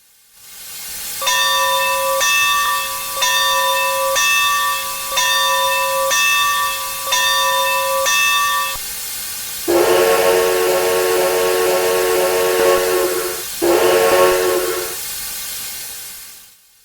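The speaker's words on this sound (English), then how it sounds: "the original B4D from CC&G doesn't have the best sound set, particularly where the bell and recycled Pennsy K4 whistle were concerned." Steam locomotive bell and whistle of a Colorado & Southern B4D in Train Simulator: eight evenly spaced bell clangs, then two long hissing whistle blasts, loud and close with no talking.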